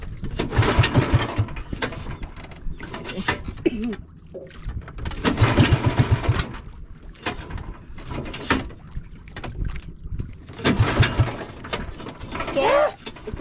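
A boat engine runs in uneven surges, rising and falling in three or four loud bursts with quieter gaps between them. People talk at times over the noise.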